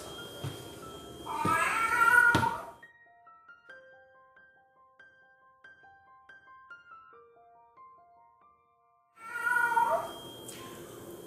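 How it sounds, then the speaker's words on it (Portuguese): A cat meows loudly twice, a long drawn-out cry at the start and another at the end, with quiet tonal notes in between. "aqui a gente pode ouvir um miado"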